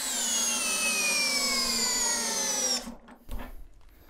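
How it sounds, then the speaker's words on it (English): An Ingco 16V cordless drill in first gear, normal drill mode, drives a coach screw during a torque test with a loud, steady high-pitched motor whine that runs nearly three seconds, then cuts off, followed by a brief clunk and rattle. "Gear number one for max torque, normal drill mode."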